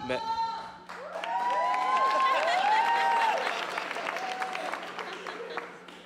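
Audience applause at a stand-up comedy show swells after a second and holds steady, mixed with whoops and voices from the crowd, then thins toward the end.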